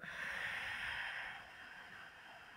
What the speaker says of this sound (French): Inspire. Expire tout.